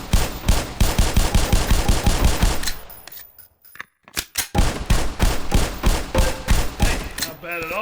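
Rapid, loud gunfire from a training weapon on a firing range in the video game Half-Life, a dense burst of shots for about three seconds, a short pause, then another volley of steady shots.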